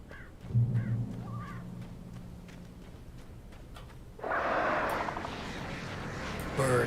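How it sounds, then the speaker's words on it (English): Crows cawing in the Alan Wake video game, a few rough calls over a low ambient drone before a louder broad wash of wind or rumble takes over. "Birds."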